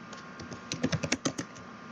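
Typing on a computer keyboard while setting up a Discord.js v12 bot, a quick burst of about eight close, crisp key clicks over a steady faint background hum.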